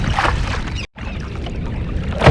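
Paddle strokes from a Stealth Fisha 555 fishing kayak on calm water, a steady swishing wash of water with a brief gap of silence near the start, close and moderately loud with no talking.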